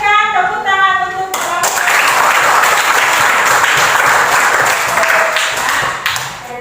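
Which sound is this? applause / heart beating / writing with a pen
applause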